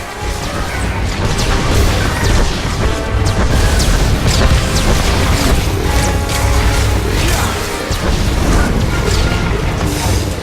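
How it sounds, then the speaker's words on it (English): Heavy droid cannon blows in Star Wars: The Old Republic combat, a dense barrage of loud crashing impacts, booms and metallic whacks layered over game music and battle noise, continuous and intense throughout. "Another swing from the Annihilation droid's cannon sends the Juggernaut flying."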